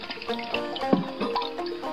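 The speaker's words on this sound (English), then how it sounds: "Didn't go all the way down, so let's flush it again" A toilet being flushed again during a leak repair, water rushing and draining from the bowl and tank in a steady close wash with gurgling swirls, no talking.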